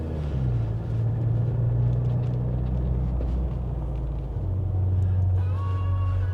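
A Jeep Wrangler JL, fitted with upgraded Power Stop brakes, drives along with a steady, loud low engine and road rumble that holds throughout, dipping briefly partway before resuming.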